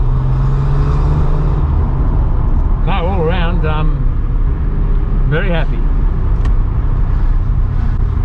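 Interior of a Porsche 993 C4 on a test drive, a steady droning engine and road hum throughout, with someone speaking briefly over it in two short bursts.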